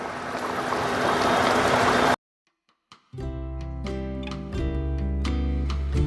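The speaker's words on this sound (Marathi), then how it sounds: "सांबारला छान उकळी आली आहे" Sambar bubbles at a vigorous boil for about two seconds, then cuts abruptly to near silence before music begins.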